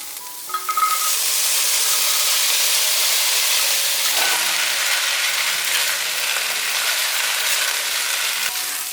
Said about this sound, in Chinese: 把猴头菇还有红萝卜放进来，一起炒